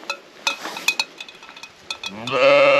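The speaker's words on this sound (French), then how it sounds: "En attendant l'accueil de ces magnifiques moutons" Sheep of the Lot breed with black eye markings, outdoors at a dolmen in Limogne, bleat a few times in short bursts, then a longer, louder, sustained bleat rises near the end, with faint clinks in the background.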